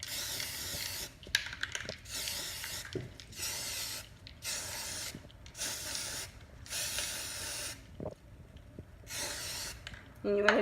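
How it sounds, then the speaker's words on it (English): Repeated short bursts of spray paint hissing from a can, about eight sprays separated by brief pauses, with faint clicks and rustling between. "you're just gonna spray paint it whatever color you want"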